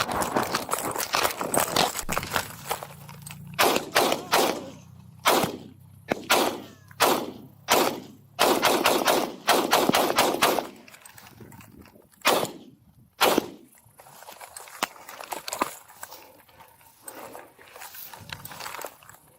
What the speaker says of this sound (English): I got shots fired.